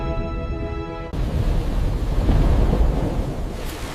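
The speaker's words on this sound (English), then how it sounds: "Thunder shook the sky." Storm thunder rolls over a lake in an animated children's tale: a soft musical tone cuts off into a loud, sustained, roaring rumble with wind-like noise that continues to the end.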